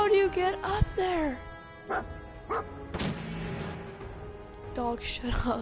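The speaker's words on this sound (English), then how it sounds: "Dog, shut up, please." A dog barks and yips in short bursts during Fallout 4 gameplay, interspersed with quieter gaps and game sounds, fairly close and moderately loud.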